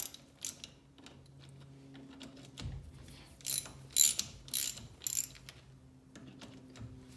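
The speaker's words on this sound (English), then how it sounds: "now I'm going to undo these bolts" A hand ratchet clicks in short bursts while loosening hub bolts on a Jeep Willys, with pauses and soft mechanical knocks between strokes.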